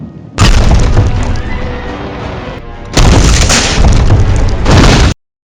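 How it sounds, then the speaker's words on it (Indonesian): A door smashed open in a Harry Potter film scene, heard as two loud, sudden crashing bursts with booming impacts and rumbling debris, the first near the start and a second about halfway through, each followed by a sustained noisy crash until an abrupt cutoff. "Ternyata yang menerobos pintu adalah Rubius Hagrid."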